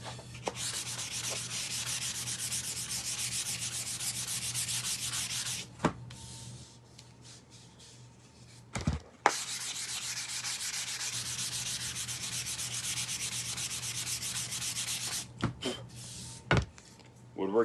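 Sandpaper rubbed by hand over a wooden prop, a steady close scratchy sanding in two long passes with a short pause and a few knocks between them.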